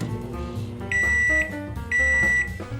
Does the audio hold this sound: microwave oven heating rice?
yes